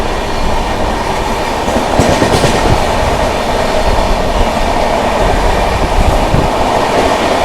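A New Delhi–Patna special train speeds through Fatehpur station without stopping, a loud, steady roar of wagons and clattering wheels rushing past close by for the whole stretch.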